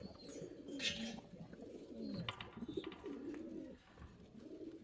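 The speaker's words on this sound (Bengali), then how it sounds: "এখানে তো একজন জ্যাকোবিন দেখতে পাচ্ছি" Jacobin pigeons cooing at a fancy pigeon farm, repeated low throaty coos in soft rolling phrases, close and moderately quiet, with faint chirps in the background.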